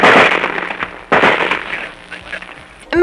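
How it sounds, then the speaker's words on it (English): Bullets and gunfire in 1944 recorded combat audio from the Battle of Kwajalein come as loud crackling bursts, one at the start and another around a second in, followed by scattered lighter cracks and a final sharp burst. "Can you hear that sound? Those, my friends, are bullets."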